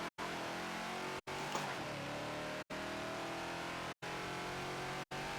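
A Ford Falcon XB race car in Forza on Homestead Road Circuit, its engine revving and climbing in pitch through several gears, each rise cut by a sharp brief gap at the shift, loud and continuous.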